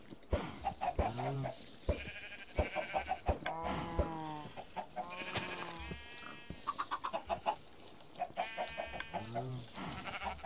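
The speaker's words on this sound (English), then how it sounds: "Let's see if we get a chicken." Chickens in Minecraft cluck repeatedly in short, harmonic bursts, several birds overlapping over a busy game soundscape, loud and close throughout.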